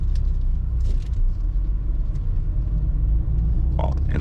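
A 2010 VW Fox Prime with an iMotion automatic gearbox climbs a hill, its engine a steady low rumble heard from inside the car, close and fairly loud, with brief faint sounds over the top.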